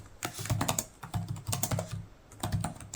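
Typing on the keyboard of a Lenovo Legion 7 Gen 7 laptop, with its U-shaped keys and 1.5 mm travel, produces close, brisk clusters of soft clacks in quick bursts.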